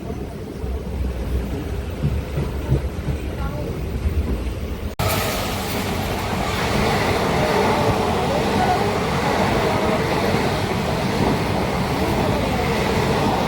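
A passenger train bound for Kacheguda rumbling along, quiet at first and then suddenly louder and steady with a broad roar of wheels and carriages, heard from onboard.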